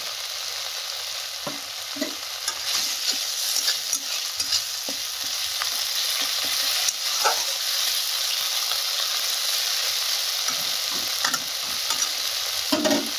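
Prawn malai curry masala being stir-fried in a pan with mustard oil; continuous loud sizzling with repeated scraping and stirring strokes of a spatula, close up and uninterrupted by speech.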